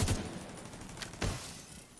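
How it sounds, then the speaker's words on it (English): Video game gunfire: a quick burst of shots at the start and another sharp report about a second later, fairly faint over a constant background hiss. "Shots."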